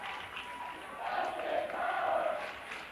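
Crowd at a wrestling match chanting in support of a wrestler, a steady roar of many voices that swells in the middle and stays loud to the end.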